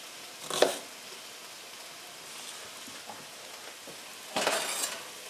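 Sliced onions and sausage sizzle quietly in a frying pan, a faint steady crackle broken by two louder hissing bursts, one early and one near the end, as the onions go in.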